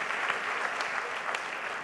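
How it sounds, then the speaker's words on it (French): Audience applause after a round table discussion, a brief, fairly quiet patter of clapping from a conference room crowd. "Je pense qu'on pourrait les applaudir, hein, pour cette table ronde fort intéressante."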